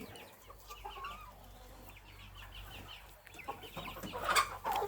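Chickens, a single flock with many roosters, cluck softly in the background of an outdoor farmyard, growing a bit louder near the end, with no talking.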